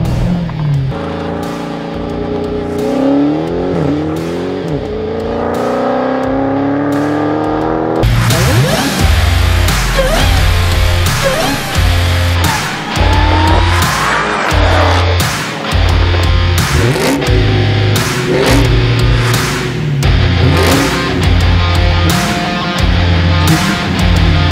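Engine of a 2020 Dodge Charger SRT Hellcat Widebody revs hard for launch control, rising and falling loudly with repeated throttle blips and pulsing bursts, close and alone.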